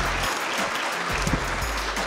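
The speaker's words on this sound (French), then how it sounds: "On peut vous applaudir de nouveau" Audience applause at a neuroscience conference on stereotypes, a dense steady clapping that fills the whole stretch at even loudness, with no voices over it.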